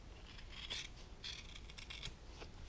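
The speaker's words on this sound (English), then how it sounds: "cut this thick foam away from the cheek pad" Scissors snip through thick foam on a motorcycle helmet cheek pad, several quiet close crunching cuts in irregular bursts against a faint background.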